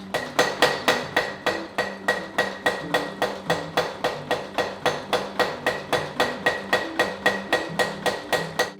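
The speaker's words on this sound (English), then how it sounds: "The precision of using the auto hammer was such that you had to press just hard enough with your foot to get it started" A foot-operated auto hammer forges a Japanese knife blade, striking in a fast, steady rhythm of loud metallic blows, about three per second, close by and with no talk.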